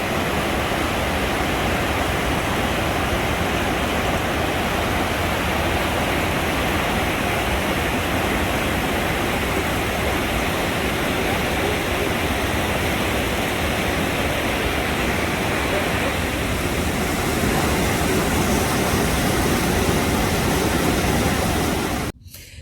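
A powerful waterfall pours into a cave, making a loud, dense, unbroken roar of rushing water that holds steady throughout, close and overwhelming, with no voices.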